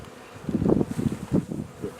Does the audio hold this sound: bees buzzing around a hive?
yes